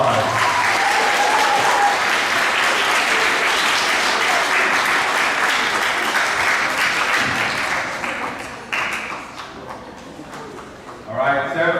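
Middle school assembly audience applauding 8th grade honor roll students, a sustained roomful of clapping that thins out and fades near the end before a voice resumes.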